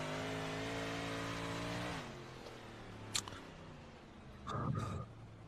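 Big Block Modified race car engines in the iRacing sim, a steady high drone of a car running the bottom line that drops off after two seconds, followed by brief sharp bursts and a louder rasp near the end.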